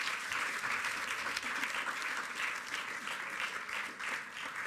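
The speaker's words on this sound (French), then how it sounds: "je vais donc vous demander d'applaudir Julie" An audience at a literary prize ceremony claps steadily, a dense, even round of applause from start to finish with no talking.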